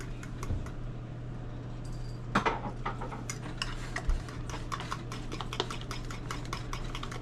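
Melted butter being mixed in a bowl in a home kitchen: a steady run of light ticking and clicking utensil strokes over a constant low hum, close by, with no talking.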